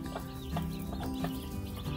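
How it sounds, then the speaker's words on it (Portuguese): Brahma chicks and chickens cluck softly in a rhythmic series of short calls over a low, steady background rumble, fairly faint and without talk. "mostrando aí a criação de pintinhos,"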